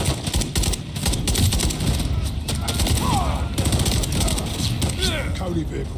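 Call of Duty: Modern Warfare 3 (2023) campaign combat: loud, continuous rapid gunfire with overlapping automatic bursts and single cracks, under voices calling out.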